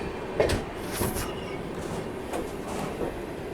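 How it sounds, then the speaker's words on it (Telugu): Another train rolls into Visakhapatnam station and halts, a continuous rail rumble broken by scattered bright clanks and knocks of the wagons, fairly near. "ఆ లైట్ కనిపిస్తుందా వెనకాల కూడా ఇంకొక ట్రైన్ వచ్చి ఆగిందండి."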